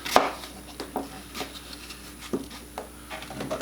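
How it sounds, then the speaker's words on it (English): A knife chops an apple into chunks on a cutting board, with a series of crisp, irregular taps and crunchy cuts, close and fairly quiet, with no talking. "Cut that apple into chunks."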